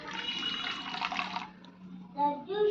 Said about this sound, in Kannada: ಇದಕ್ಕೆ ಬೆಲ್ಲ ಕರಗ್ಲಕ್ಕೆ ಒಂದು ಅರ್ಧ ಕಪ್ಪಷ್ಟು ನೀರು ಹಾಕ್ತಿದ್ದೀನಿ